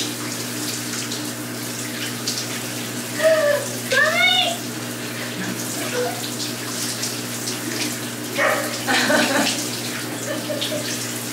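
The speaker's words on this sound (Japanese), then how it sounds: "水シャワー滝行チャレンジします" Cold water from a shower runs steadily, with a person's breathy gasps and vocal sounds breaking through it at a few moments.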